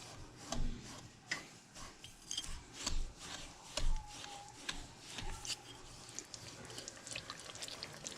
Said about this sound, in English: Stir that up just a little bit.